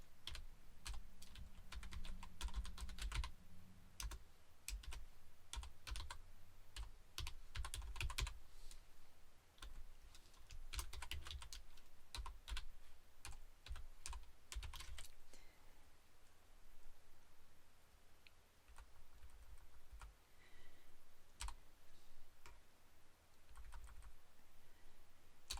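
Keys clatter in quick irregular bursts of typing on a computer keyboard, close but soft, with brief pauses between flurries.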